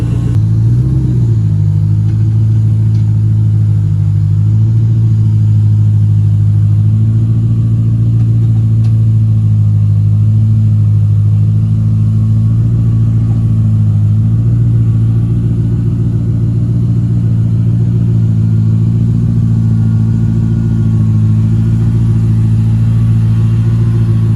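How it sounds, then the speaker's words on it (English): A supercharged Ford Mustang Bullitt with a new Magnapack exhaust idles loudly and steadily with a deep, rumbling tone. Slight swells in the engine note break the steady run, and no one talks. "Sounds like you can hear the supercharger."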